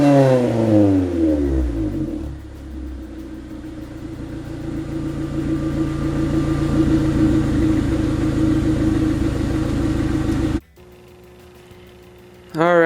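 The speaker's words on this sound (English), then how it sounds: "after starting it up, the idle is definitively louder than it was before" Honda CRX engine with freshly modified exhaust, idling loudly up close with rising revs and a steady raspy drone, then cutting off abruptly before restarting.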